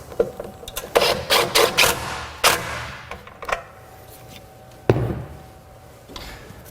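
Working on a 2004-2009 Toyota Prius battery, a 10mm nut is fitted onto a stud and tightened, producing a close run of quick metallic clicks and ratcheting scrapes separated by pauses.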